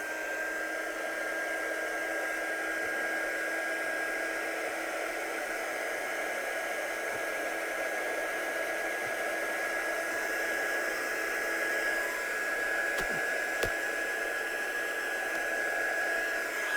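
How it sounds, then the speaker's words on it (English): A heat gun blows drying a watercolour card, a continuous steady airy whoosh with a faint high whine, held at even loudness with one small click near the end. "I'm just going to go and dry this off with a heat gun now"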